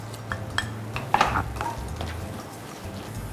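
Egg and spring onion are stir-fried in a pan, with several sharp metallic clanks and scrapes of utensil against pan over a soft frying hiss, close and without talk.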